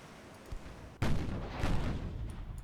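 A 20-inch battleship gun salvo fires in the naval game Ultimate Admiral: Dreadnoughts, a sudden heavy boom that rolls on into a long, low rumble, fairly far off and a little muffled.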